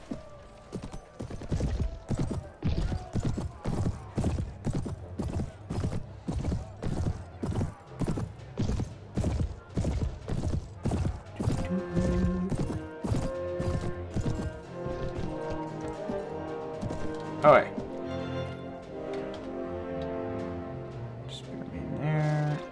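Galloping horse hooves in Mount and Blade Warband, a rapid, even clip-clop rhythm that drives on for a long stretch, then gives way to a busier mix of battle sounds with a sharp spike near the end.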